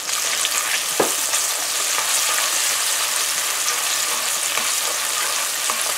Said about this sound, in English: So you just fry your onions for about half a minute